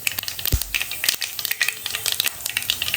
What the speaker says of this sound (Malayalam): അപ്പോൾ കടുകൊക്കെ പൊട്ടിക്കഴിഞ്ഞു.